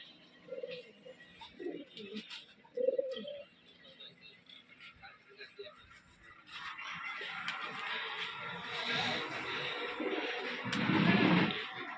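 Jacobin pigeons with large feathers give a few soft, low coos early on, then broadband rustling and flapping noise takes over and grows louder toward the end.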